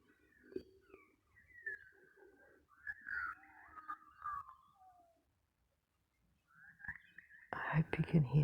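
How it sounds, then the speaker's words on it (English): Birds call softly at early morning in Australia, a scattering of faint chirps and whistles in quiet surroundings, heard under a person's whispered talk. "I hope you can hear those beautiful, beautiful birds."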